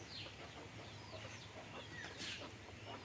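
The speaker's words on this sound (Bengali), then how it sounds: "এটার মধ্যে দেশি মুরগি আর এই সাইডে আছে কিছু পোলট্রি মুরগি, ব্রয়লার বলে অনেকে" Native village hens and broiler chickens cluck in a rural poultry farm, scattered soft clucks and chirps from several birds at close to mid distance over a low steady background. No one speaks.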